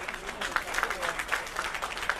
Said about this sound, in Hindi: एक बार जोरदार तालियां बजाइए अपने लिए।